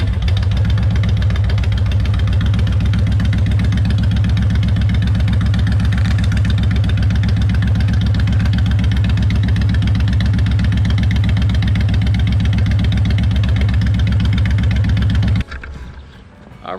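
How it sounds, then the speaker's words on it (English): A warm Honda Fury motorcycle with an STG 2-into-1 exhaust idles at close range in a steady, loud, even thump that cuts off abruptly near the end. "we're gonna turn it on and we'll see how the idle sounds being warm"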